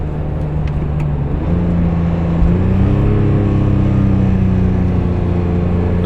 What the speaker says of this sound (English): Now here's the moment of truth, is the downshift.